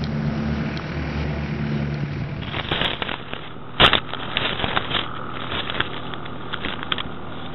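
A model rocket launches with a sudden sharp crackling whoosh after a low steady hum, followed by a short loud burst and scattered fading crackles outdoors.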